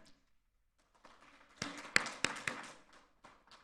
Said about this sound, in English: please give a round of applause to the organizers of this event